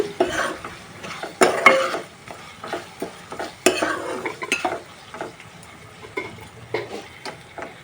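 Gongura chicken curry with turmeric is stirred in a pan, with a spoon scraping and knocking against the metal in irregular close strokes over a soft sizzle.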